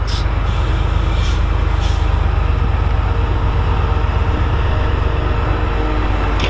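Class 68 diesel locomotive 68016 Fearless in DRS livery roars past at close range, a loud, steady, rumbling engine drone with brief hissing bursts early on.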